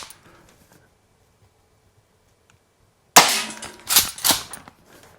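A Jag Arms SPX2 green gas airsoft shotgun fires outdoors after a near-silent pause: one sharp, loud crack followed by a couple of rattling, gassy bursts close to the listener.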